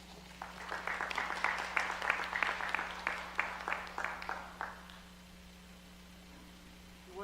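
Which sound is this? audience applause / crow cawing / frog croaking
audience applause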